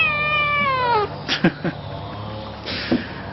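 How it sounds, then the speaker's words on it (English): Indoor cat giving a long, loud rising meow at the start, followed by a few short snorts and sniffs close to the listener. "It doesn't help having an insane kitty around, does it?"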